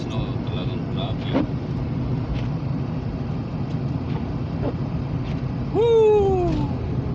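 Cars drive through snow on a Louisville, Kentucky road during the first snowfall, a steady low traffic hum with a few faint knocks and a brief rising tonal sound near the end.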